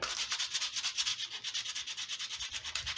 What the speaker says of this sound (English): I'm going to take the sandpaper, clean up all the chisel marks on it